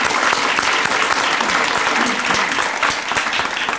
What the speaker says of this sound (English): I just want to give Kit a round of applause and congratulations.